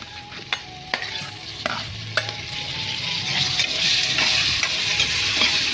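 Tomatoes sizzle and crackle steadily in a hot tempering pan while a utensil scrapes and stirs in repeated strokes, the frying growing louder toward the end.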